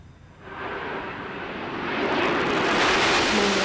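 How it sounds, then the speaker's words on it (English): Space Shuttle Endeavour comes in to land at Kennedy Space Center on STS-127. A rushing roar starts faint and swells steadily louder as it nears, with no talk. "Thirty seconds to touchdown. The landing gear is down and locked."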